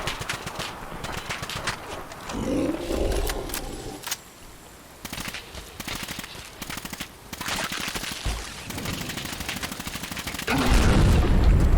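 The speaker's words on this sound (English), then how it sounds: "the recoil's nice on the full auto" Full-auto gunfire in the video game Fallout 4, with long rapid bursts of shots crackling in dense runs, broken by short pauses and heavier booms, loud and close.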